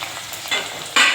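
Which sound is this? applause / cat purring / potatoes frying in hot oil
potatoes frying in hot oil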